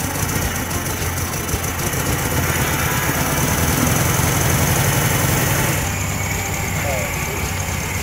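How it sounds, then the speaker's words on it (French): A loud engine runs steadily at idle, a rough continuous rattle close by, with voices occasionally talking over it. "Quand le moteur démarre, oui, c'est un soulagement, ça fait plaisir de l'entendre"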